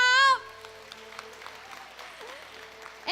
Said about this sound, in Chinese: 让我听到你们热烈的掌声，好不好？